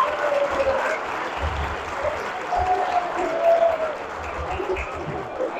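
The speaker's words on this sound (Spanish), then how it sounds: "Un aplauso para Esther." Crowd applause at a village fiesta proclamation event, steady clapping with a voice briefly audible over it and some low thumps underneath.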